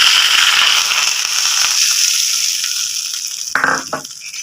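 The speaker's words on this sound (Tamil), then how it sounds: "இப்போ தாளிப்பு கொடுத்துக்கலாம்" Tempering spices for kuzhi paniyaram sizzling in hot oil, a bright steady hiss with scattered pops that gradually thins out, then a couple of sharp clattering sounds near the end.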